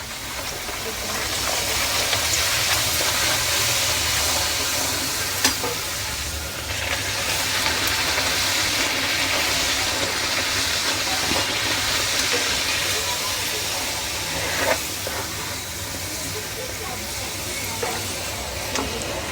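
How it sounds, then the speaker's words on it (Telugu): Puris deep frying in hot oil, a dense continuous hiss and bubbling sizzle that holds steady and close for the whole stretch, with occasional small pops. "ఇప్పుడు ఇవన్నీ మనం డీప్ ఫ్రై చేసుకుందాం. ఇప్పుడు ఆయిల్ హీట్ ఎక్కిందండి"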